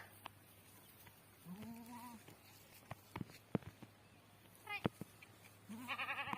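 Two or three goats bleat at moderate distance, wavering calls spaced a few seconds apart, with scattered thumps and light background noise.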